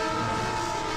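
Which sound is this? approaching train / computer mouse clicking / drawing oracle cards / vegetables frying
approaching train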